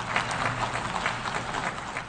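Applause from world leaders welcoming Dr. Muhammad Yunus, chief adviser of Bangladesh's interim government, at the UN General Assembly: dense, sustained clapping from a large hall audience, even and continuous throughout.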